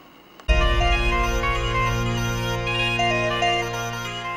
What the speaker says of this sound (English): What is that? A cell phone.